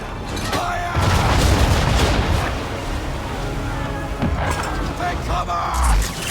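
Ship cannons boom during an Assassin's Creed III naval battle, heavy blasts rolling out in a loud, sustained volley with rumbling debris and shouted orders around them.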